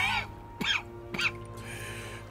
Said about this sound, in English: That's quite a cough.